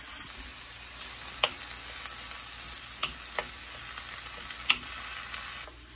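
Ground beef browns in a dry skillet with no oil or butter, giving a steady close sizzle broken by a few soft ticks and pops. Nobody speaks.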